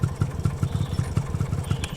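A motorcycle engine thumps in a quick, steady low pulse as the bike rolls in, near and fairly loud with a light mechanical clatter on top.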